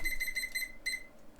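A timer alarm goes off in a run of quick, high electronic beeps in rapid pairs, then a short pause and another burst, faint but clear over quiet room noise.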